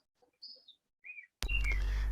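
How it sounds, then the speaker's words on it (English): A few short, high bird chirps sound in quiet surroundings, then a sudden loud burst of broadband noise takes over. "we can hear the beautiful chirping birds in the background from your side"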